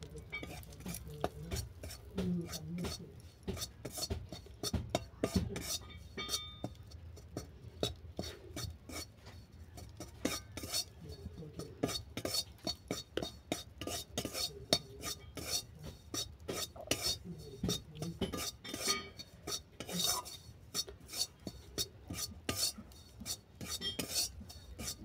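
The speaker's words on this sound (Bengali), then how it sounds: "ময়দাটাকে ভেজে নেব।" Flour fries in melted ghee while a spoon stirs it steadily, giving a long run of quick, rhythmic scraping strokes against the pan over a faint sizzle.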